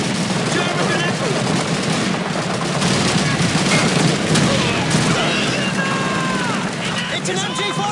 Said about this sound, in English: It's an MG-42! On the left!